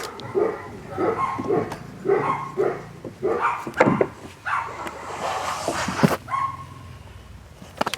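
A dog barks repeatedly in a steady rhythm, fairly close, with a few higher yelps mixed in and some background noise.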